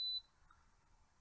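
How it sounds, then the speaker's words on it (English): A single short, high-pitched electronic beep from a wattmeter sounds at the start, then fades into quiet background hiss. "Oh, two beeps, several beeps."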